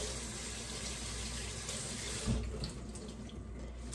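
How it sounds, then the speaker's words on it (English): Kitchen tap running as cilantro is washed under it, a steady close rush of water with a brief splashing surge midway before it flows on more softly. "we're gonna wash the cilantro"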